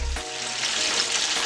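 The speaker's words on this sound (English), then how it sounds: "Frying them up. I might have to turn this down. It might be a little high." Baby back ribs deep-frying in hot oil give a steady, dense sizzle and crackle that stays loud and close from start to finish, with no voices over it.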